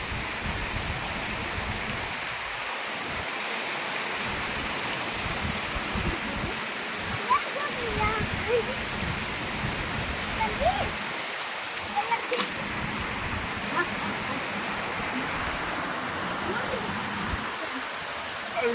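Continuous heavy rain pours down in a dense, even roar, with low rumbling gusts underneath and no voices heard.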